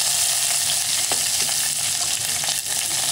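Onions and curry leaves fry in hot oil, a steady close sizzle that holds throughout, with a few faint stirring clicks and no talking.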